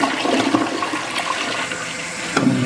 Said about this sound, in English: Now it stays up when you flush it.